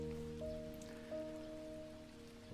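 Steady patter of rain falling in the video game As The Rain Sings, a continuous soft hiss running the whole time with faint tonal music notes layered underneath, no voices.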